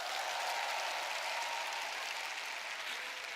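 A large convention audience of thousands applauds, a steady, even roar of clapping that sounds somewhat distant and subdued throughout.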